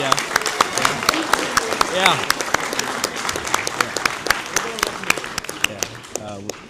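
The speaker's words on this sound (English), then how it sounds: "give a round of applause for you guys for doing less" An audience at a cadet program's year-in-review event breaks into sustained applause, dense clapping lasting several seconds with voices audible in the mix.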